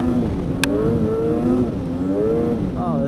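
A warmed-up Polaris Pro S 800 snowmobile engine revs steadily up and down close by, its pitch rising and falling in repeated surges with a short sharp click partway through.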